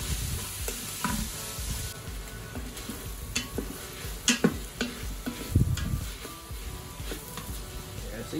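Onions softening in an Instant Pot with a pinch of salt, stirred now and then: a steady close sizzle with scraping and clinks of a utensil against the pot, no voices.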